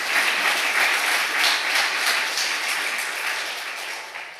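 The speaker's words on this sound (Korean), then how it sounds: "아버님께 큰 감사의 박수 부탁드리겠습니다." Sustained applause from a church congregation in Gapyeong fills the room evenly and loudly, a dense wash of many hands clapping that holds steady and fades slightly toward the end, with no voices over it.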